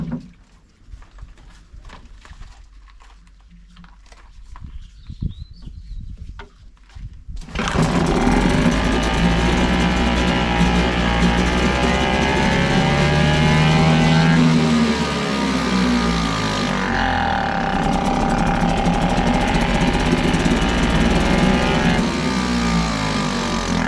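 A British Seagull Century Plus outboard motor catches after a rope pull-start and settles into a loud, steady, buzzing idle close by, following several seconds of quiet handling noises before it fires.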